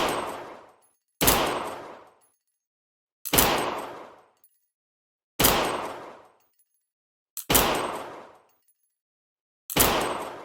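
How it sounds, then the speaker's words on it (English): In-game VR pistol gunfire, six sharp single shots spaced roughly two seconds apart, each with a decaying reverberant tail, loud and clear with silence between them. "The in-game sound combined with the haptics is a wicked effect."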